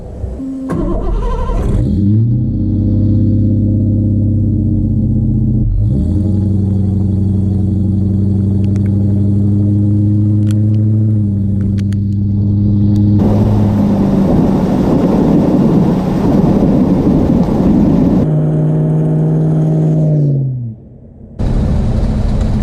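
Land Rover 110 with a V8 engine and automatic gearbox, driving along: a steady loud engine drone rising and falling through gear changes, with a rougher, clattering stretch of road and drivetrain noise in the middle before it eases off.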